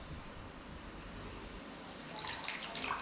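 Curry base for a korma being poured into a pan, a soft wet splashing and trickle that grows slightly louder toward the end, quiet and close.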